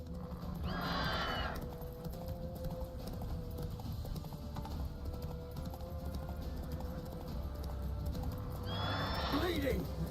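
Roach the horse from The Witcher 3 neighs twice, near the start and again near the end, while hooves trot steadily over a continuous game soundscape.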